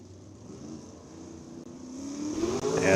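A 410 non-wing sprint car at Eldora Speedway comes up to speed on the back straightaway. The engine note starts low, then swells into a rising, louder rev toward the end as it draws nearer.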